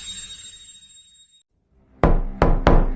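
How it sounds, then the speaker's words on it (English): Three loud, sharp knocks on a door, the first followed by a pause and the next two coming quicker, sounding close and alone after a stretch of quiet. "A knock at the door."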